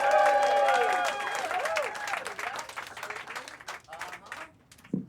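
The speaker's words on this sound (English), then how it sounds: "Start clapping right now for my good friend John Gasper" A stand-up comedy showcase crowd claps and whoops to welcome comedian John Gasper. Loud cheering voices ride over the applause at first, then the clapping thins and fades toward the end.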